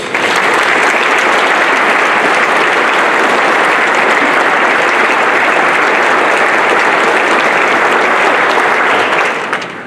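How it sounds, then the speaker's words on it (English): A large audience gives loud, sustained applause at the official opening of a new hospital in Bendigo, a dense, steady wash of clapping that runs unbroken for about ten seconds before easing slightly at the end. "Please give everyone who built this great hospital a big round of applause."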